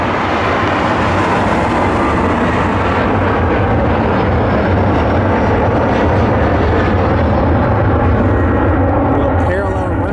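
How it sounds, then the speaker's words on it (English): An American Eagle regional jet arrives at Cleveland airport, a loud, continuous broadband jet roar that stays heavy and steady throughout, with wind buffeting close by. "Eagle inbound regional jet."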